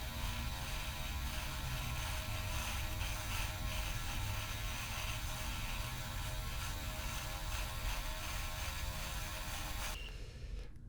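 An electric beard trimmer runs steadily, cutting a beardstache close to stubble against the grain. It gives a constant near, buzzing whir with a faint mechanical rattle, alone with no talk, and cuts off abruptly at the end.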